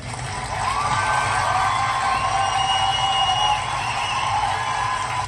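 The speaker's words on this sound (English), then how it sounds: "that's why I put the applause" Crowd cheering and whoops from a studio audience, loud and steady across the whole stretch, with shouts rising over a broad roar.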